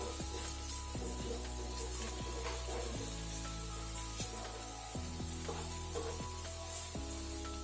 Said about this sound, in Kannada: ಈಗ ಒಂದು ಸೈಡ್ ಫ್ರೈ ಆಗಲಿ, ಇನ್ನೊಂದು ಸೈಡ್ ಕೂಡ.